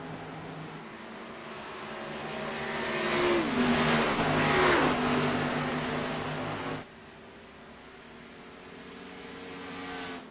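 Race car engines roar past on a track in the iRacing sim, a whining engine pitch that rises and swells loudly mid-clip, then drops abruptly to a steadier, quieter drone.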